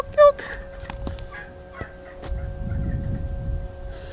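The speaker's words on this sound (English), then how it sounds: "Talkie turkeys." Turkeys gobble in bursts outdoors, a sharp short call early on, followed by a rougher, rumbling chorus of gobbling toward the end, fairly close.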